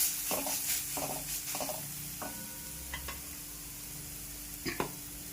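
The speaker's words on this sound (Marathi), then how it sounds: "अर्धा चमचा हिंग आणि हळद घालून छान परतून घेऊया" Green chilli fries in oil with turmeric and asafoetida, giving a soft close sizzle under rhythmic scraping strokes of a spoon against the pan, a few sharper clinks near the end.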